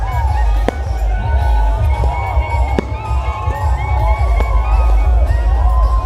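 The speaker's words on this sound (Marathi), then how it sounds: "फुल आतिषबाजी आता तुम्हाला बघायला भेटेल" Fireworks bursting during a Holi arrival procession at Apta Koliwada, with several sharp cracks over a loud, continuous cheering and shouting crowd.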